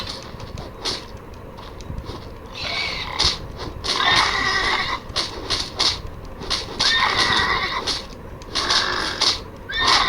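A horse in a video game gives repeated loud neighs and whinnies in short bursts, with some hoof clatter and ambient game sound in between, heard up close with no speech.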